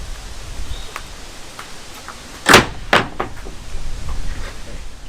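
A screen door on a front porch slams shut, two sharp bangs about half a second apart, loud against a quiet outdoor background with faint rustling.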